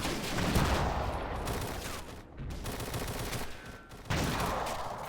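Rapid repeated weapon fire and blasts from a PIAT anti-tank weapon in a WWII strategy game, dense, loud and continuous with brief gaps, close and alone without talk.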